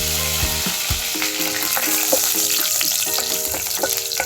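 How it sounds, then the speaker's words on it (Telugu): Curry leaves and chillies hitting hot oil in a pan for a bitter gourd curry, a loud crackling sizzle with sharp pops and spatters close by, no speech. "ఒక రెబ్బ కరివేపాకు వేసుకుందాం. అలాగే మిరపకాయ వేసుకుందాం."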